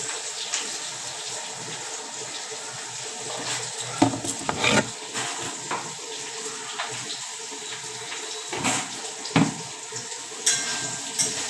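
Teasel gourd frying in a pan, a steady soft sizzle with scattered louder clatters and bursts of kitchen activity, no talking.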